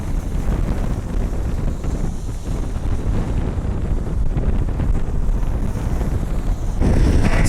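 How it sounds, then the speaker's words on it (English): Strong wind gusts pound the microphone at Cleveland Hopkins airport during a high wind warning, producing a loud, continuous low rumble and buffeting that swells again near the end, with no voices. "It's too windy and too rainy to keep the tripod up here."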